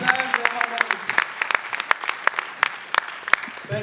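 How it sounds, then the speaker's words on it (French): Audience applause at a film festival award ceremony, with a steady patter of clapping and sharp individual claps standing out, fairly close and continuous, under a lingering voice at the start. "On peut l'applaudir"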